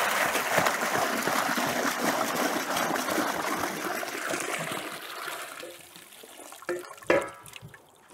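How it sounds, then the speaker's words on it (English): Hot tap water runs steadily into stainless steel brewing equipment being passivated at home, a continuous broadband splash and trickle that thins out near the end, followed by a couple of brief clanks. "This is hot water from the tap."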